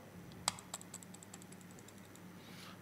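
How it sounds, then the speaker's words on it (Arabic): Scattered keyboard key clicks, quiet and close, with one sharper tap early on and lighter taps trailing off over a faint steady hum. "هاي الكيبورد"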